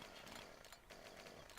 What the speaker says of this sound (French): Chiant cette tronçonneuse.